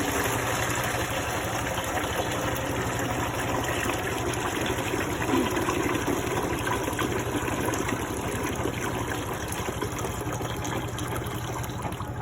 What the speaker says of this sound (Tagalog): Habang dinidrain natin yung tubig, dapat nakawash lang po siya or umaandar siya para mailabas lahat ng tubig.